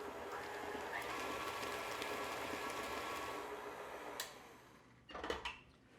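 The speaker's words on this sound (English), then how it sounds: "I just want to mix the eggs now into that" Room-temperature eggs being mixed into chocolate chip cookie dough: a steady, dense whirring mix runs for about four seconds, then eases off into a few brief clinks and knocks.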